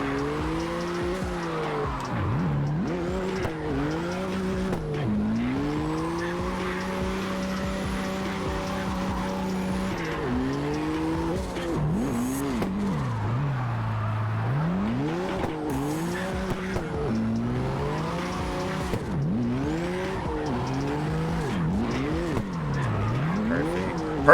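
A car drifts in CarX Drift Racing Online: the engine revs rise and fall in repeated sweeps while long tire squeals run through the slides, loud and continuous for over twenty seconds.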